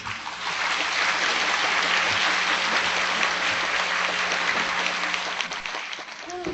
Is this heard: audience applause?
yes